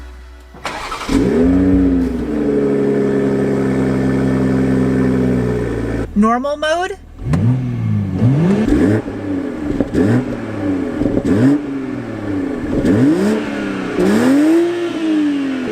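A tuned 2021 Toyota GR Supra 3.0 cranks and starts, settles into a loud idle, then revs repeatedly in sharp rising and falling bursts; a voice speaks briefly.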